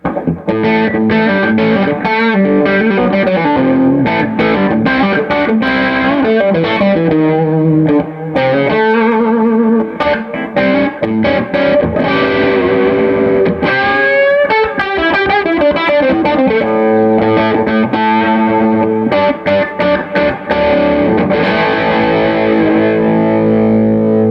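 Heavily distorted electric guitar through a high-gain pedal, playing a loud, continuous run of chords and single notes that stay clear despite the saturation.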